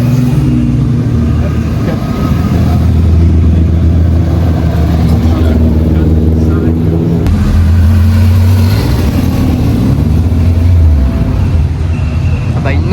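Porsche sports car engines rev loudly and steadily at the Tour Auto 2026 departure in Paris, a deep continuous engine roar with traffic and crowd chatter mixed in.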